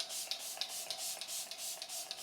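A run of quick, evenly spaced hissing spritzes of Tarte makeup setting spray, about eight short mist bursts in a row, close and fairly soft.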